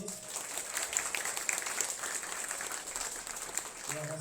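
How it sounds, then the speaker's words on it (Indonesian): An audience at an Indonesian diaspora talk show forum applauds for a guest speaker, a steady wash of clapping across the room that holds evenly from start to finish. "Terakhir kita beri tepuk tangan yang lebih keras lagi untuk Pak Anies."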